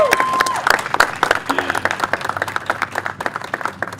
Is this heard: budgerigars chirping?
no